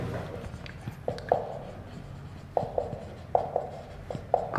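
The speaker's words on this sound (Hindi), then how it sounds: "उसका नाम मैं लिख देता हूँ" Marker or chalk writing a name on a board during a Hindi history lecture, heard as a series of short squeaky strokes in bursts, fairly close over a low room hum with no talking.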